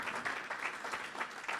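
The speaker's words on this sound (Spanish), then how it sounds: "Un aplauso fuerte a Cristo de nuevo" Church congregation applauding during a Sunday sermon, a steady wash of many hands clapping together with slight rhythmic surges, moderately distant and without talk.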